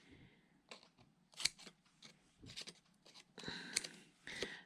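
Scissors trim material for a craft treasure chest in a series of quiet, crisp snips, close by and irregularly spaced, with some louder cuts near the end.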